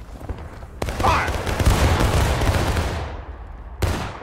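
A ragged musket volley in a Civil War battle game erupts at once, a dense, loud crackle of many shots rolling on for about two seconds before fading, then one more sharp report.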